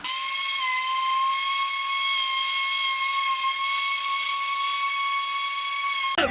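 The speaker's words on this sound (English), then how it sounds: "I'm gonna see if I'm gonna sand this down" A power sander works on the fiberglass dash of a Chevy C10, giving a steady, loud, high-pitched whine with a hissing edge that holds unbroken for six seconds before cutting off.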